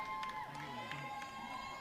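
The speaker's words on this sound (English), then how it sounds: "good celebrations, cheering all around" A crowd cheers and celebrates at the final of the 2022 indoor cricket winter league, a steady, fairly close roar with a few higher shouts rising above it.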